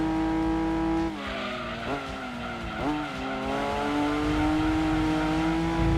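Race car engines whine and shift pitch, with sharp upshifts and a rising, sustained high-revving tone, loud and close, from the PS1 racing game Gran Turismo 2.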